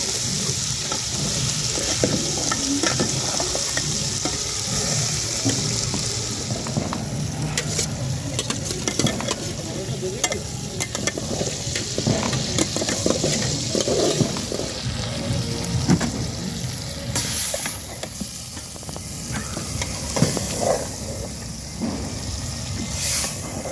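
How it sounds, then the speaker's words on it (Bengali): Marinated mutton frying in a pan at an outdoor New Year's Eve picnic, heard as a dense, loud sizzle with ongoing scraping stirs and clatter across the whole stretch, with no clear talk. "আর এবার এর মধ্যে ম্যারিনেট করে রাখা মাংসটা দিয়ে দিচ্ছি"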